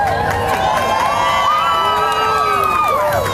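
A large crowd at a March for Science rally cheers and whoops continuously, with scattered shouts and high voices swelling across a loud, steady roar that carries from start to finish.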